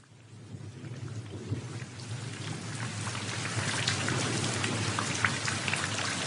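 Heavy rain pours steadily over a city, dense hiss of drops on surfaces building louder over several seconds, with low thunder rumbling underneath; no voices.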